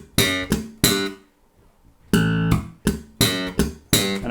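Slap bass riff mixing a slapped open A, a muted palm slap, ghost notes and popped notes, punchy percussive hits in a syncopated pattern with a short pause midway, close and loud with no talking.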